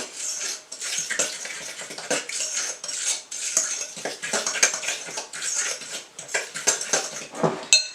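A spoon scrapes and clinks against a bowl while sugar is stirred into lemon bread batter, with quick irregular metallic taps and rattles close by and no talking.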